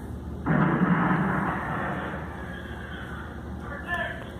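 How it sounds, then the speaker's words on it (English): A single heavy cannon boom erupts and rolls away in a long, fading rumble, followed by a fainter second cannon report; a voice is heard briefly as it dies down. "2 cannon shots ring out"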